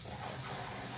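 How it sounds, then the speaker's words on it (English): Tap water runs into a kitchen sink to soak dirty dishes, giving a steady, close, unbroken gush with no voices. "Got a couple of dishes going on here, so let's get a little soakage going on."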